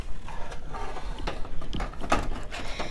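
Jammed paper is pulled from the back of an Epson EcoTank color printer: a close run of plastic clicks, rattles and scraping mechanism noises with a few sharper snaps, no speech.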